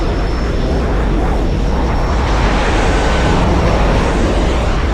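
A jet aircraft engine from the video game Battlefield Iraq roars loud and constant, a dense broadband rush with a thin high whine laid over it, unbroken for the whole stretch with no talk.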